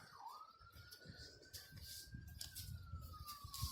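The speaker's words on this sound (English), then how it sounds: "why I always hear sirens in the video" Far-off siren wailing in a long, slowly rising and falling tone over low rumbling background noise during a supercharger swap on a Hellcat, faint but steady throughout.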